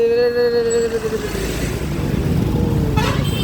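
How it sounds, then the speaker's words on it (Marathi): A vehicle horn sounds briefly over the steady rumble of passing road traffic in Bhandara, with motors droning nearby and another short honk near the end. "ट्रॅफिक पाहू शकता तुम्ही"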